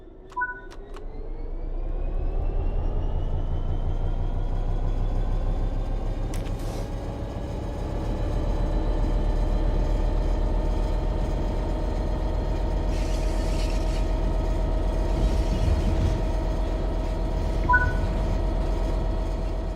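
Train accelerating under throttle in Train Sim World 3, a steady low engine drone that rises in pitch as it gathers speed, with brief mechanical clicks at the start and near the end.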